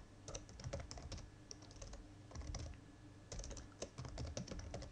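Keys clatter on a computer keyboard as a refund reason is typed into invoicing software, quick irregular bursts of clicks with short pauses, close and fairly quiet, no talking.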